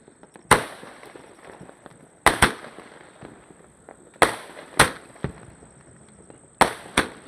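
Firecrackers burst outdoors in a series of about eight sharp, loud bangs. Most come in pairs spaced a second or two apart, with a faint crackle and a thin high whine between them.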